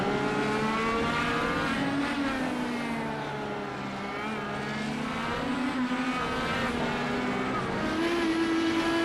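Open-wheel Indy Elite race car in iRacing at Mid-Ohio, engine revs rising and falling steadily through the clip as gears climb, a loud continuous whining drone with no one talking.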